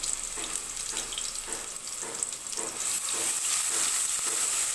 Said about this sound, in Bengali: পেঁয়াজ মশলাটা হালকা একটু কষে গিয়েছে